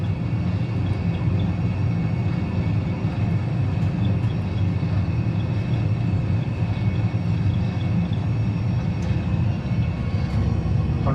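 An Airbus A320 accelerates along the runway at Beirut on its takeoff roll in a flight simulator game, heard as a steady, loud, unbroken engine roar with no talking.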